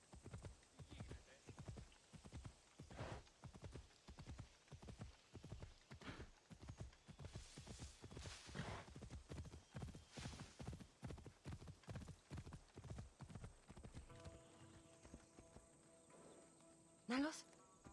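A horse trots along in Assassin's Creed Odyssey, its hooves clip-clopping in a steady, even rhythm for a long stretch before slowing, and a short whinny comes near the end.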